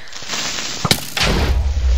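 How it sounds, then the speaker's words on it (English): A Creeper explodes in Minecraft survival gameplay on Xbox One, a sharp burst followed by a rumbling boom that lingers with low-frequency roar, loud and close. "Creeper explosion."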